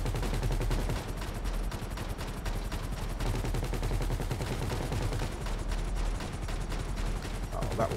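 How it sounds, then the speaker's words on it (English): Rapid automatic gunfire rattles almost without pause during a Humane Labs Raid heist in GTA V Online, dense bursts of shots with a low rumbling bed, loud and close. "Oh, they're shooting behind us."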